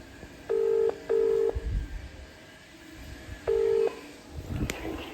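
Three short electronic keypad tones from a phone being dialled, two close together then a third after a pause, clear and fairly loud over a quiet background.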